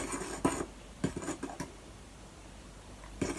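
A few ingredients, peppermint or spearmint oil among them, are mixed in a bowl to make zero-waste toothpaste. About four or five sharp clinks and scrapes come close and spaced apart, with quiet pauses between them and no talking.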